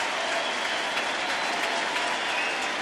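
A sustained ovation fills Nationals Park as the crowd applauds a departing Nationals pitcher during an NLDS playoff game against the Dodgers, thick even clapping from thousands of fans holding at a constant level throughout.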